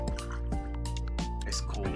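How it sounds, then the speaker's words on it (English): Cold water poured into a vessel with a gurgling, dripping fill that repeats in short glugs, close up, over a steady low hum. "let me pour some water here."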